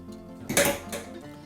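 Leftover chocolate mousse being scraped off a metal whisk in a kitchen, a short burst of clinking and scraping with two close, brief bursts, no talk.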